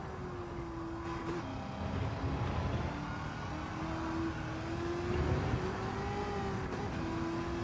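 A video game car engine hums and revs in waves, rising and falling in pitch over steady road noise, with no one speaking.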